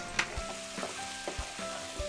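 Cauliflower, carrot and peas sizzle in a pan of roasted spice masala, a soft crackle punctuated by regular scraping stirs of a spoon, fairly quiet and close with no talking.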